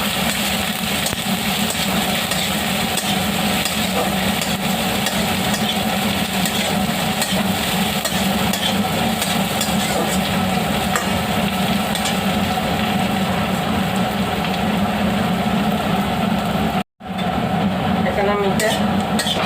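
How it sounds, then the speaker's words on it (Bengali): Onions frying in oil in a wok, a loud, dense, continuous sizzle with stirring scrapes throughout, close up, with a short break near the end before the frying resumes. "গরম হয়েছে, পেঁয়াজ ভেজে নিই, একটু লালচে করে ভাজবো।"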